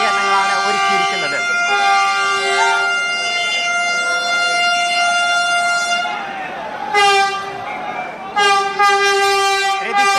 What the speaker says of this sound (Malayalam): അതായത് കേരളത്തിൽ വന്ദേ ഭാരത് ട്രെയിൻ കോട്ടയം റെയിൽവേ സ്റ്റേഷനിലൂടെ കടന്നു പോയിക്കൊണ്ടിരിക്കുന്നു.